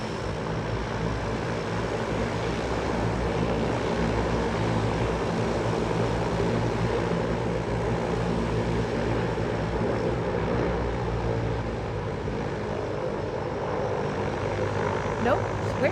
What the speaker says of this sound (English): I'm not in the best place for recording planes coming in, but here goes.